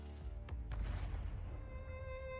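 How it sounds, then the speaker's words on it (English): An explosion in the Arknights Sankta event sounds as a dull, muffled boom with a short rumble under a steady game soundtrack, fairly quiet and with no one speaking. "An explosion?"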